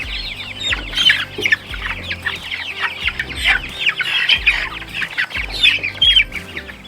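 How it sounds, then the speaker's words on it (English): Chickens clucking and a rooster calling on a family homestead, a busy overlapping chorus of bird calls with steady low rumbling noise underneath. "This is a rooster right here."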